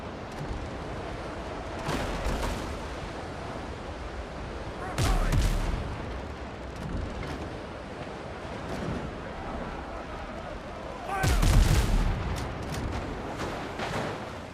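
Gunfire and cannon-like blasts in the video game Windrose, with heavy booming reports at intervals, clustered near the start, middle and end, over a constant rumbling, surf-like game ambience.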